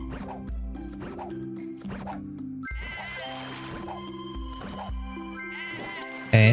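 Cartoonish sheep bleat repeatedly in the puzzle game Divide by Sheep over bouncy game music, joined by squishy, dripping effects and a loud burst at the very end.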